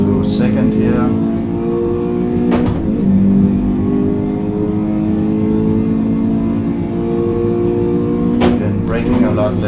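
A Toyota GT86 engine in the racing game Assetto Corsa drones steadily in third gear, holding a smooth rising pitch with brief gearshift breaks, while someone talks over it.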